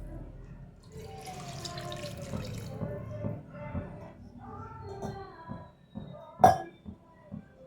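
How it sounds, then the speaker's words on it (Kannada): Water poured into mutton curry in a pressure cooker, a soft, close trickling and splashing with a faint metallic clink near the end. "ನೀರನ್ನು ಹಾಕ್ಕೊತಾ ಇದ್ದೀನಿ."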